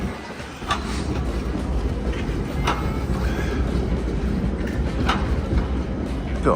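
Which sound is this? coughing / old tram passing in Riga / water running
old tram passing in Riga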